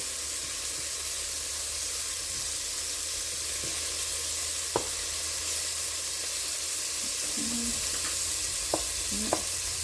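Flour-coated beef pieces searing in a pan for stew, a constant loud hissing sizzle with a few faint clicks and light utensil knocks, no voices.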